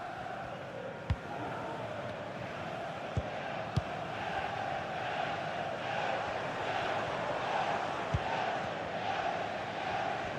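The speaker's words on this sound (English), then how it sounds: "Well, just listen to this crowd." Stadium crowd in a football video game, a steady, distant roar of massed spectators rising slightly in intensity, with a few sharp thuds over the constant murmur.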